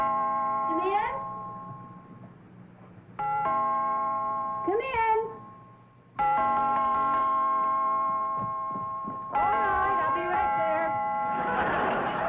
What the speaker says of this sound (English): We're just fixing the door chimes.